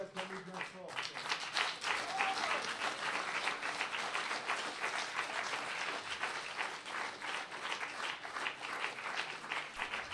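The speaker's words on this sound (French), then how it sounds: "On peut l'acclamer bien fort." A church congregation applauds and cheers in praise, sustained loud clapping that swells after a brief opening and carries on steadily to the end.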